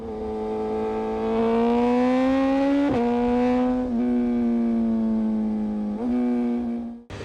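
A 2025 BMW S1000 RR sport motorcycle engine revs up smoothly and holds a steady high-pitched whine, with brief dips and surges, close and loud with no talk.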